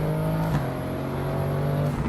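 A steady engine drone from an Audi RS6 in a driving sim game, holding a constant tone at fairly high revs, with tire and road noise over two seconds.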